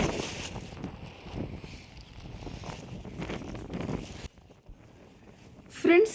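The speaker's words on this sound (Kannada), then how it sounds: "ಇದು ಎಷ್ಟು ಗಾಳಿ ನೂಗ್ತಾ ಇದೆ ನಮ್ಮನ್ನ." Strong wind gusting over the Pataguppa bridge across the Sharavati backwaters, buffeting the microphone with a steady roar that drops abruptly partway through before a sharp loud burst near the end; no speech is heard.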